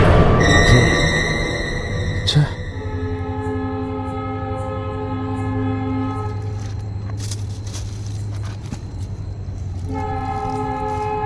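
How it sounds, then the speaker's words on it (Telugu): A loud train horn blares briefly at a turning in the track, then a long low rumble of rolling rail cars follows, with a second horn blast near the end. "ట్రైన్ ఇక్కడనే ఏమో టర్నింగ్ ఉందంట అందుకే హారం కొడుతూ ఉంటుందంట"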